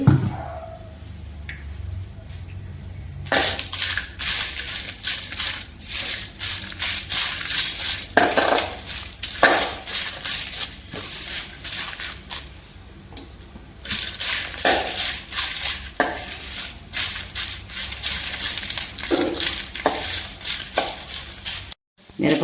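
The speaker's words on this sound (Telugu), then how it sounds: "ఇప్పుడు వేయించుకుందాము ముందుగా స్టవ్ వెలిగించుకుని బాండీ పెట్టుకుని మిరపకాయల్లో కొంచెం ఆయిల్ పోసుకుందామండి" Sliced dried red chillies frying in a little oil in a kadai for mango pickle, with crackling sizzle and repeated scraping stirs of a spatula against the pan, close and fairly loud, no talk.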